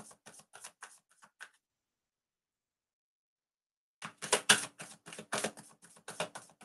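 Tarot cards shuffled by hand, coming as two bursts of rapid, crisp riffling and snapping separated by a few seconds of silence, close and fairly loud, with no talking over them.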